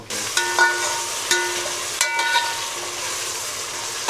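Onions with ginger and garlic fry in a hot pan for a goat head curry, a steady close sizzle broken by a few sharp clinks and scrapes of stirring, with no talking.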